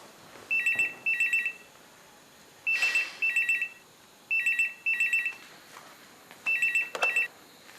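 A phone rings in four repeated bursts of electronic double trills, each separated by a short pause, clear and close with faint background noise.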